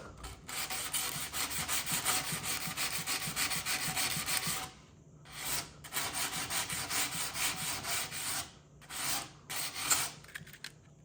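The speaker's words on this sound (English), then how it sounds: "so we have here some really 120 grit sandpaper" Sandpaper of 120 grit rasps across a rusty snowboard in repeated close, steady strokes, with a few brief pauses between bursts of scraping.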